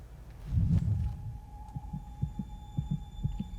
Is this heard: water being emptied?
no